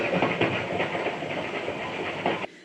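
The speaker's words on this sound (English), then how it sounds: "Little Robinson gets pushed in front of a train as if by magic" Train rolling past in a toy theater show, a steady rumbling rush with clattering rhythm, loud and close, cutting off abruptly near the end.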